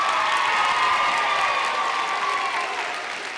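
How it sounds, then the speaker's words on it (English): Audience applause and cheering at a school district honor choir concert, a dense, even roar of clapping that holds steady and then begins to taper off near the end. "can we give them a round of applause"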